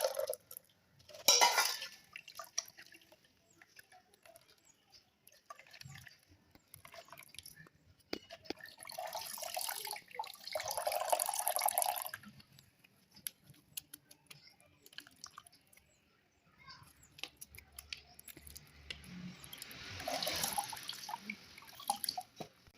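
Ground coconut is squeezed through a strainer to draw out the milk, giving quiet intermittent drips, wet squelches and trickles in bursts, close and soft with pauses between.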